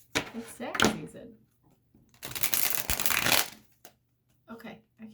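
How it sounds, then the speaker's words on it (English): Tarot cards being shuffled close by in two loud bursts, a brief bridge of rough riffling, with quieter handling sounds after. "Okay, I can shuffle these"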